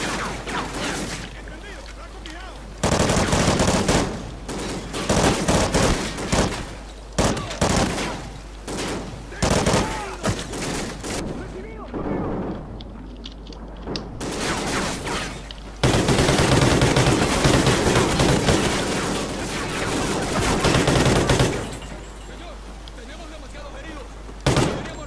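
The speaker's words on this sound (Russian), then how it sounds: "О, пулемет." Sustained automatic gunfire from a machine gun in the video game Call of Duty: Ghosts, loud dense bursts of rapid shots with brief pauses between volleys, with voices talking at times.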